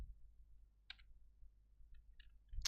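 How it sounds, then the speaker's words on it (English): Keys clack on a vertical computer keyboard in a few short, sparse bursts separated by quiet gaps, faint and close, with no talking. "Typing on a vertical keyboard is actually a problem."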